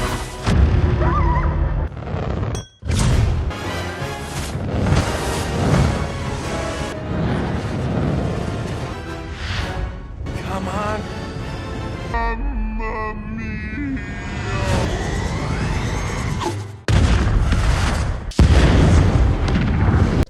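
Loud, chaotic booming and blasts from a big explosion inside a portal pipe in The Super Mario Bros. Movie, with roaring rumble and crashing bursts that cut out abruptly several times.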